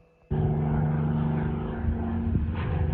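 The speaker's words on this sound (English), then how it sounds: "That's a Spitfire doing somersaults and all that." A Supermarine Spitfire performing aerobatics overhead drones steadily with a loud, continuous piston-engine hum that starts abruptly after a brief quiet moment and holds for the rest of the clip.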